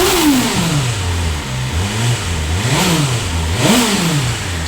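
A BMW S1000RR superbike with its stock exhaust is revved up close, the engine climbing and dropping in a few sharp throttle blips over a steady idle.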